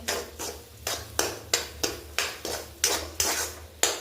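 A spoon scrapes round a pan of semolina sheera cooked in ghee over a low flame, giving about nine rhythmic strokes, each a close, crisp scrape with short gaps between.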